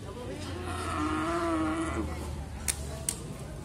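Cattle at the Grabag animal market in Magelang give a single long, low moo that swells and fades in the middle, set against market background noise, with a couple of sharp knocks afterward.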